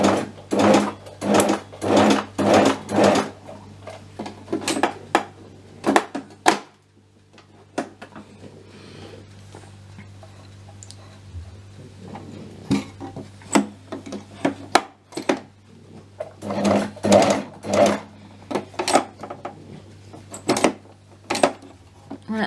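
An overlocker serger sewing machine runs in repeated loud, rapid whirring bursts, close up, with short pauses and quieter handling noises between runs.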